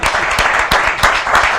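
Crowd applause at an outdoor motocross event, loud clapping with sharp individual claps standing out over a dense wash of noise, close by.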